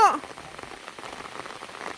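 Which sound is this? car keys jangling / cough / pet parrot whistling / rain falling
rain falling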